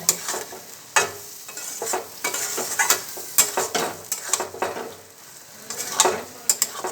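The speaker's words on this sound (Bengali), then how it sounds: "একটু ভালো করে এটাকে কষিয়ে নেবো" Peas being stirred and sautéed in a pan for ghugni, a steady sizzle with repeated scraping strokes and clinks of the spoon, close and fairly loud throughout.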